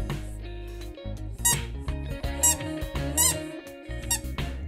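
An old rubber duck toy, faded after more than 40 years, squeaks repeatedly in short, loud, high-pitched bursts close by, with uneven rhythm and no voices.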